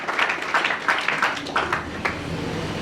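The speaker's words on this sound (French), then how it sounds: "Acclamons très fort pour lui." Loud clapping and applause from a church congregation, a steady rhythmic patter of many hands filling the space, with rippling bursts roughly every half second that suggest people clapping in time.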